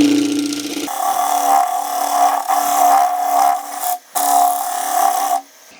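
A French curve scraper cuts a wooden closed-form bowl spinning on a lathe, giving a steady close scraping whir with brief pauses and a short break near the end, no voices.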